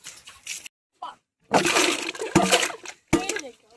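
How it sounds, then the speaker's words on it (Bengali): Jamun fruit is washed in water drawn from a well, giving short bursts of splashing and clattering separated by quiet gaps, with voices nearby. "দেখো কুয়োর জলে জামগুলো পরিষ্কার করে ধুচ্ছি।"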